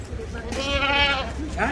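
A single goat, given as a prize from a bank in Tapaktuan, Aceh, lets out one loud, close, wavering bleat outdoors, with a voice chiming in at the end.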